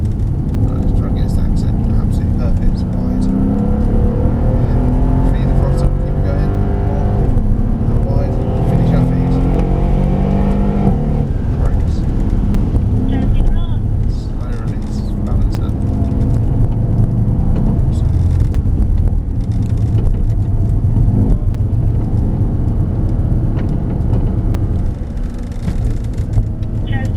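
Mercedes-AMG SL63 engine pulling hard on a race track, a loud continuous roar rising and falling through the lap with a voice talking over it.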